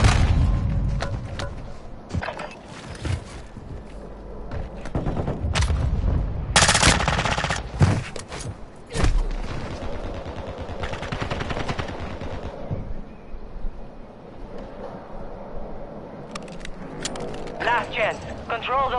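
Gunfire crackles in a video game battle, with rapid automatic bursts and sharp single shots in clusters, loud peaks near the middle, while voices talk over the action throughout.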